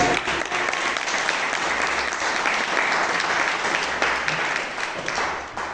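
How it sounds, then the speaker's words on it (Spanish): A church congregation claps together as an offering of praise during a Spanish-language sermon service: loud, dense, sustained applause filling the room, tapering slightly at the very end. "Dale una ofrenda de palmas a Dios."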